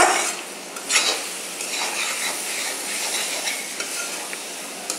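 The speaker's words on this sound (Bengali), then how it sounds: "এখন আমি সেই পেস্ট করে রাখা মুসুরের ডালটা এর ভিতরে অ্যাড করে দেব।" Masoor lentil paste hits hot oil in a pan, producing a steady sizzling hiss with occasional clinks and scrapes of a utensil stirring.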